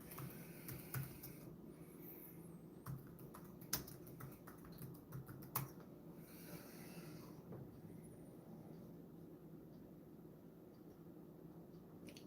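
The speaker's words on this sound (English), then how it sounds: "I just typed in Vice Keto article" Keys tapped in bursts on a computer keyboard while a web search is entered, quiet clicks scattered over the first half then thinning out against a low steady room hum.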